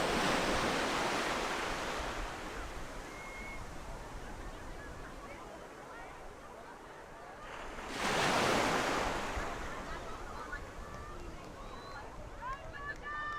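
Surf breaking on Fish Hoek Beach in Cape Town during a lifesaving sport race, a broad rushing wash that swells again near the middle, close and steady with wind buffeting and a commentator's voice layered over it.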